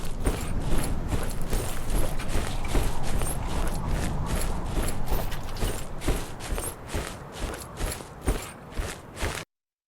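Footsteps crunch and rustle through thick grass and leaves in the Death Stranding game, a steady rhythmic walk with crisp swishing textures on each step, close and fairly loud, ending abruptly.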